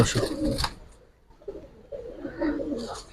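Low, soft coos from a Giribaz pigeon repeat in a gentle rolling rhythm, close by, with some faint background noise between calls.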